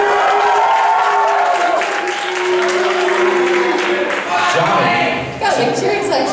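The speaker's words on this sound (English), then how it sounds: "Got a big cheering section over there." Pageant audience bursts into loud, sustained applause and cheering, dense clapping and shouts filling the room steadily for several seconds, with crowd voices mixed through.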